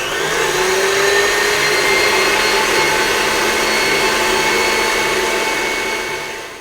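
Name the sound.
tabletop mixer whisking cake batter on high speed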